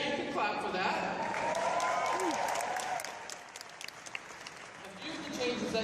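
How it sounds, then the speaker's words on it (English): An audience at a company presentation applauds with steady, dense clapping that holds for about three seconds, thins out, then swells again, with a speaking voice running underneath. "Yeah, you can clap for that"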